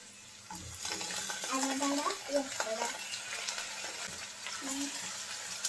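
Onion, ginger and garlic paste frying and being stirred in a pan for a masala okra dish, a soft continuous sizzle with scraping stirs and light clinks, fairly quiet and close.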